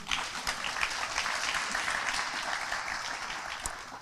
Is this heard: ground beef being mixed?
no